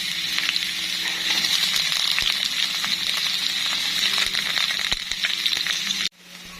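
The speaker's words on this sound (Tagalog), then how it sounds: "maglalagay na tayo na ating sibuyas at luya" Garlic, onion and ginger fry in a pan with a loud, steady, close sizzle. Light stirring clicks run through it, and the sound cuts off abruptly just before the end.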